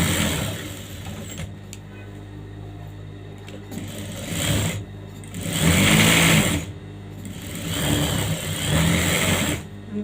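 Sewing machine stitching the side seam of a saree blouse, loud close motor whir in several bursts that start, pause briefly and start again, with no voices over it.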